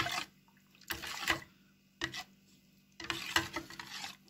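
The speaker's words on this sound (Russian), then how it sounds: "Хорошенько перемешиваем," Gelatin mixture for an apple beer dessert being stirred in a bowl, three soft bursts of scraping swirls separated by brief quiet pauses.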